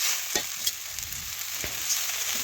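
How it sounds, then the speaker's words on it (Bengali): Spices and fish curry are stirred in a pan on the stove, giving a steady close frying sizzle with a few soft scraping strokes of the spoon, and no voices. "একটু নাড়াচাড়া করে মিশিয়ে নিলাম।"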